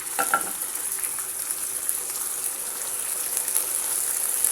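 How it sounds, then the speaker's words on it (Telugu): Chicken pieces go into a pan of fried onions and sizzle steadily, a close, even frying hiss with a few faint clinks at the start and no talking. "ఆనియన్ అనేది ఇలా ఫ్రై అయింది కదా ఇప్పుడు మనం ఇందులో చికెన్ అనేది వేసేసుకుందాం"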